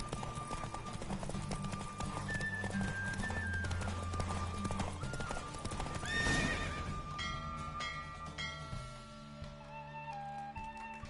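Galloping hooves pound rapidly alongside horse whinnies and snorts in a PS4 video game, with music and game effects layered underneath, ending in a flourish of chimes.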